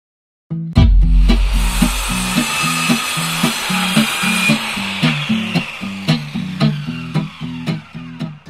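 Chainsaw engine starting and running while cutting wood, a loud close buzzing drone with a steady rhythmic pulsing and repeated revving surges, no talk.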